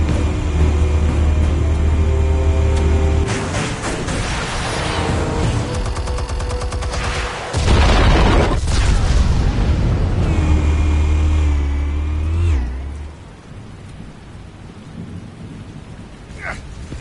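Explosions in Batman: The Telltale Series on PS5, heavy rumbling blasts with crackling debris in two long bursts and a short sharp crack, sounding like thunder and downpour, loud with no talk over them.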